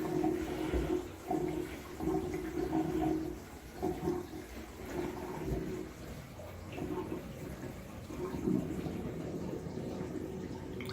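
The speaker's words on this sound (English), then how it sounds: "It's draining. It's the sound of a good drain at 18 Plumbing." Water drains down a freshly cleaned sink drain in a steady, soft gurgling rush that continues throughout, faint and with no talking.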